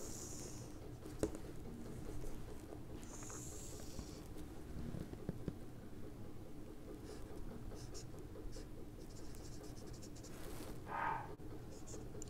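A pen scratches steadily while someone draws a bridge rectifier diagram, giving faint, close strokes over a quiet room hum, with small taps and a brief higher squeak near the end.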